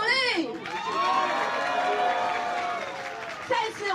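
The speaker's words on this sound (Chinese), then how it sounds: "大家掌声鼓励。" Around a hundred young supporters cheer and shout at Taiwan's Central Election Commission as Han Kuo-yu and Chang San-cheng register as 2020 presidential candidates. Excited voices rise and overlap in a lively, close crowd roar, with faint clapping.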